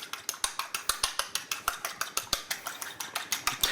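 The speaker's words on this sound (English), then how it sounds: "Just give the egg a quick light beat" An egg gets a quick light beating with a utensil in a bowl: sharp, rapid, evenly spaced clicks, roughly five per second, close and clear, with no voices.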